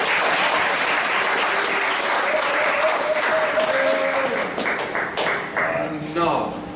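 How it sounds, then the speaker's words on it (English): Audience at a movie screening and fundraiser clapping, a dense burst of applause that fades unevenly toward the end, with a speaker's voice running over it. "give another hand clap for Chuck"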